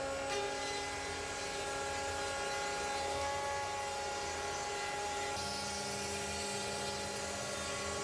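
An Oxman CNC machine takes a shallow 0.2 mm surfacing pass, giving a steady, loud, continuous mechanical whine with constant tonal hum and no breaks.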